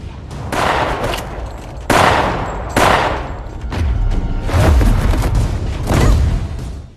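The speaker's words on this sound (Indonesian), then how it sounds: "datanglah Letnan Tun yang ikut membantu menembaki Samidi menggunakan ulti tembakan Leslie" Bursts of heavy gunfire, loud and close, several volleys with brief gaps between them, dense and booming with no voices.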